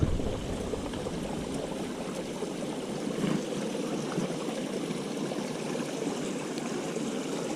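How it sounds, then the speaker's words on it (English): A year-round stream on Huskey Gap Trail pours over small rocks and wells up from beneath two big boulders, a close, steady rushing and gurgling that holds even throughout. "it's just flowing down from these smaller rocks and then up from underneath this, like two really big rocks"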